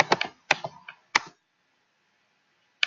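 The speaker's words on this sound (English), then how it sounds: "let me try typing it again" Quick bursts of typing on a computer keyboard, a cluster of crisp key clicks followed by a pause and one last isolated tap, close and fairly quiet with no talking.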